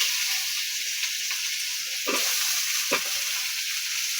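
Onions and tomatoes sizzle steadily as they fry in a pan, broken by a few scraping stirs, with no talking heard.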